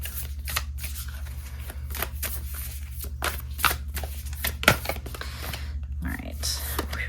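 A tarot card deck being shuffled in quick repeated riffles, a close, crisp run of papery flutters and snaps with short pauses between bursts, with no talk over it.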